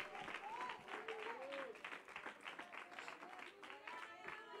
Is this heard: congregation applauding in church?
yes